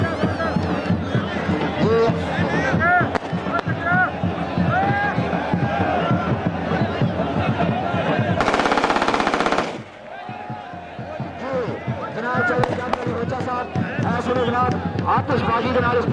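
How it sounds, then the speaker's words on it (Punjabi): Fireworks go off as a welcome at an open kabaddi match, a rapid, loud rattling string of crackling bursts, with an amplified commentator talking and crowd noise before and after. "ਆਤਿਸ਼ਬਾਜ਼ੀ ਦੇ ਨਾਲ ਇਸਤਕਬਾਲ"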